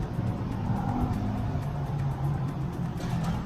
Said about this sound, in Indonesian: ini kita isi bensin RON 95